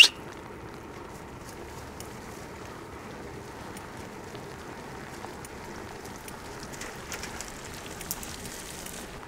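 Light, steady rain falls on an open countryside sheep enclosure, making a soft, even hiss that holds at a constant low level without pauses.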